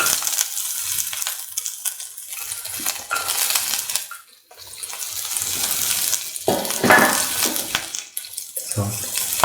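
Garlic frying in a pan for a tomato coconut stew, a steady broadband sizzle with bursts of stirring and scraping, close and loud throughout, briefly dipping once before resuming.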